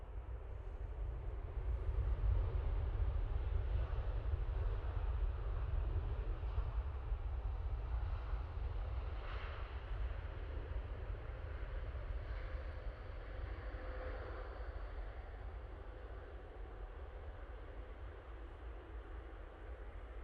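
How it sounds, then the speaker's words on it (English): A jet airliner landing at Manchester Airport gives a steady, loud low roar with broadband rushing noise that swells early and then slowly eases over about twenty seconds, with no voices. "Beautiful landing, absolutely stunning."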